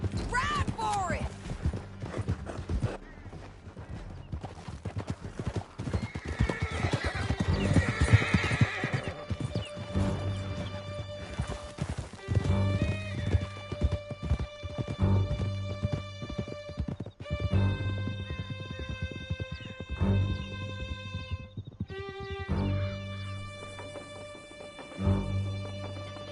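Horses gallop in Red Dead Redemption 2, a rapid continuous clip-clop of hooves close up with loud neighs and whinnies, under music and character voices while riding through a canyon.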